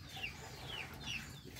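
Chickens cluck faintly in the distance, giving a few short rising calls over a quiet rural backdrop.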